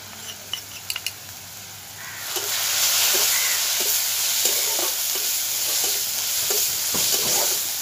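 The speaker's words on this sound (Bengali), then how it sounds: "মশলাটাকে আমি খুব ভালো করে কষে নিয়েছি" Spice paste of salt, ginger-garlic, chili, coriander, cumin and turmeric being fried and stirred, a few sharp clinks first, then a loud steady sizzle swelling in with rhythmic scraping strokes of the spatula against the pan.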